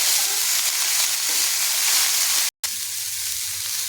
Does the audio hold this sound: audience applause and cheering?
no